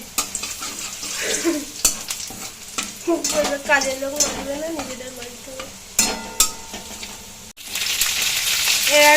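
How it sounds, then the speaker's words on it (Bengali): Food fries in a wok with a loud sizzle and frequent scraping, clattering stirs, while people talk over the cooking at intervals. "একটু লাল লাল করেই ভেজে নেব এগুলোকে"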